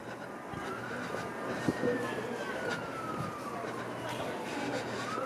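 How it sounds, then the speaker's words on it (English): Distant emergency vehicle sirens wail faintly with slowly rising and falling tones along Danforth Avenue in Toronto's Greektown on an evening walk, under steady street noise and traffic rumble. "I hear some sirens in the background."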